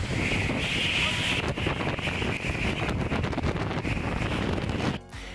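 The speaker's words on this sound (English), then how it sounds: "Boeing 747 blowing away people" A roaring blast of rushing air from a Boeing 747's jet engines at St. Martin Airport buffets the microphone continuously, harsh and loud, before dropping off abruptly near the end.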